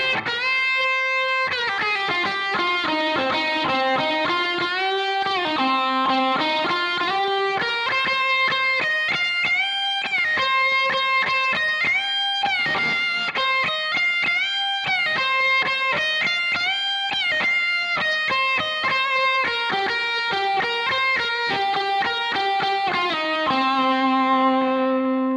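An electric guitar strung with neon-coated strings plays a continuous distorted riff of sustained chords and bending notes, loud and alone throughout.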